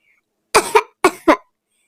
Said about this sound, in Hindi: अब देखो हो गई ना खांसी